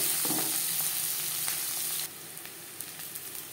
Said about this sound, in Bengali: 10-15 সেকেন্ড জিরে ভেজে নেওয়ার পর দিয়ে দেবো পেঁয়াজ কুচি